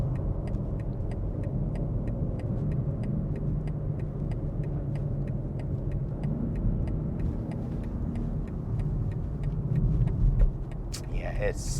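A 2023 BMW X3 M engine rumbles steadily under road noise while driving, with a faint regular ticking running throughout.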